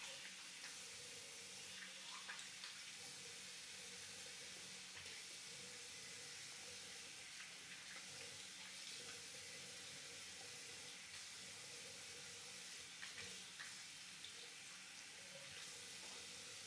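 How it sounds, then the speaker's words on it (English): Water runs steadily from a tap while a face is rinsed after shaving, a constant soft hiss with faint splashes and no voices throughout. "I'm going to rinse off and we'll get to my against the grain pass."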